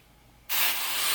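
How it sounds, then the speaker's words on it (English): Spray hair dye hisses from a can onto synthetic faux locs, a sudden bright continuous spray starting partway in and holding steady, close and loud. "just lightly spray it from afar"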